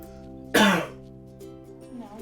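One sharp, loud cough bursts out close by, then fades into quiet background with faint voice sounds.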